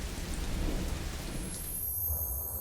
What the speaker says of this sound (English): Rain is liquid precipitation, or in other words, water that falls from the sky.